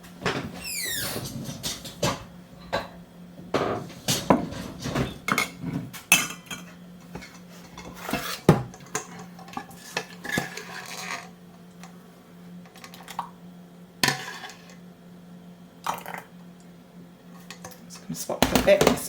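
A spatula scraping grape jelly off a ladle, with scattered knocks and clinks of metal utensils and dishes coming in irregular bursts over a faint steady hum, with some quieter gaps between.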